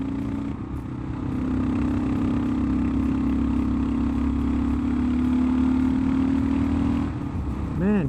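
A Kawasaki KLR 650 single-cylinder motorcycle fitted with an aftermarket header pulls under load in a low gear, its steady droning exhaust note holding loud and close before easing off near the end.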